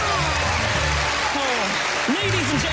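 A television studio audience applauding a magician's helper, dense loud clapping and cheering throughout while a voice talks over it.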